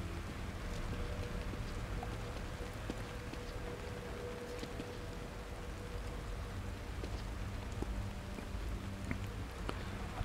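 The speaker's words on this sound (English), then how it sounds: "it's pouring down with rain" Heavy rain pours steadily and evenly in the video game The Evil Within, a dense continuous hiss with scattered drip-like ticks and no break, heard at moderate distance with no voices.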